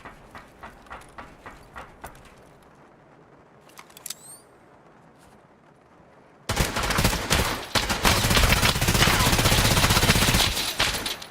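Enemy gunfire in the video game Escape From Tarkov: scattered single shots at first, then a sustained, loud, dense burst of rapid automatic fire that runs without a break to the end.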